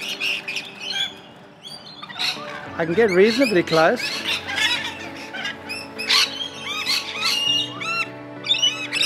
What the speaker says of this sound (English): Look at all the birds behind me on the feeder.